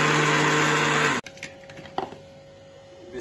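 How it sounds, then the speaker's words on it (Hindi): A kitchen blender blending vegetables whirs loudly at high speed, then cuts off abruptly, leaving quiet clatter and a few small knocks. "इसको कर लेते हैं थोड़ी देर के लिए ब्लेंडर में डाल के।"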